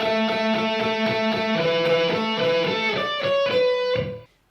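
An electric guitar plays a short lead phrase from a song. Clean picked notes sound in a steady rhythmic pattern, then ring out and fade quickly at the end.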